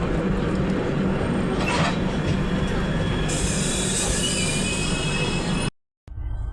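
Gitanjali Express passenger train rolling past the Vivek Express, a loud steady rumble of wheels and carriages with a rising hiss partway through, then an abrupt cut to near silence.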